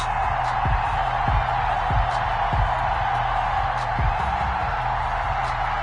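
A stadium crowd roars steadily in an EA Sports NFL video game before a Los Angeles Rams versus Baltimore Ravens match: a dense, continuous wash of cheering with no pauses.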